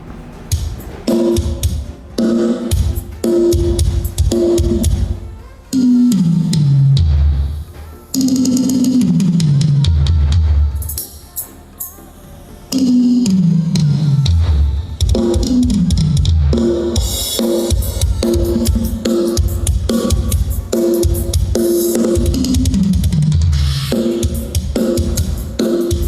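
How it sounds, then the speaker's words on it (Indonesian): A drum track plays loud through a Fidelity 15 Pro passive 15-inch speaker, with heavy kick and tom patterns, repeated grooves and descending tom fills, continuous and without talking. "Dan selanjutnya saya akan cek sound menggunakan drum ya"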